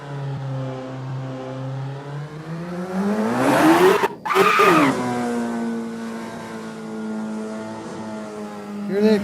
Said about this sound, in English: We definitely have the tire squeal. But I'm afraid we got the sound of the engine too.